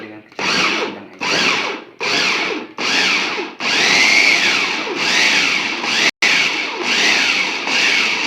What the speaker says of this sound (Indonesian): saya akan haluskan ini dengan menggunakan chopper ya